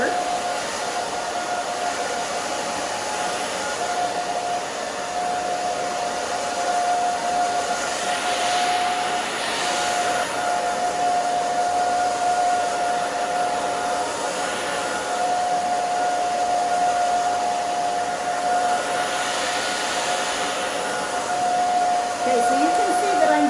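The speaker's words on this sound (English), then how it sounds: "Now we will blow dry" A hair dryer blows steadily throughout, drying hair during a women's bob cut in a professional salon, with a constant near whine and airflow that shifts slightly as it moves around the head.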